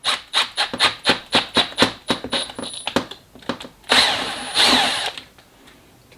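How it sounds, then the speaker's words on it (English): A power drill with a drill bit works on an MPI install, driving through a fast run of sharp rhythmic ratcheting bursts before two longer, louder continuous whirs near the end, close up with no voices. "So what you need to do is get your drill bit"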